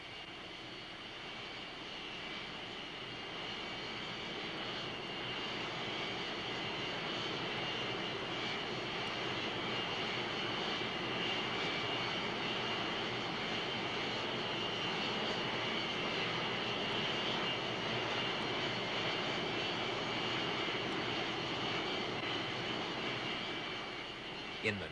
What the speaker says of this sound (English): The pilots receive last-minute instructions from the ground as they start their jet engines